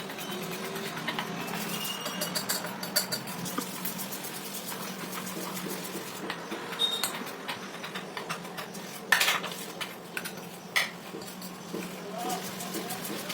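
Spoon scraping and clinking against a bowl while a salted mixture is stirred by hand, soft irregular taps and scrapes over a steady background hum, with speech at times.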